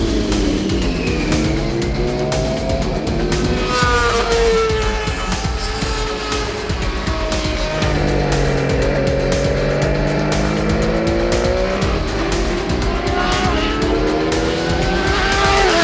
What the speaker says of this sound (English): our first bike to ride today is the Triumph Triple Challenge TTC bike from T3 Racing